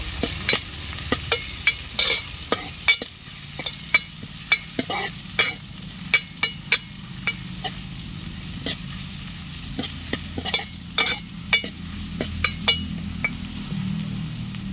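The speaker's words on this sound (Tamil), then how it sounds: "அடுத்தது வெங்காயம் கொஞ்சமாக அப்படியே இது எல்லாத்தையும் பார்த்திங்கன்னா நல்லா வதக்கிடலாம்." Onions sautéing in a pan for a fish kuzhambu make a constant sizzle, broken by frequent sharp clinks and scrapes of a spoon stirring against the vessel, close and busy throughout.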